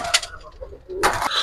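Pigeons coo briefly nearby, a couple of soft calls amid faint background noise in a pigeon-keeping setting.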